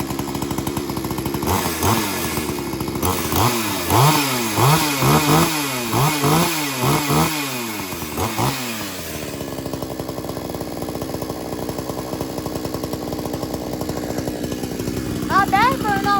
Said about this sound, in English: Not bad for an old chainsaw.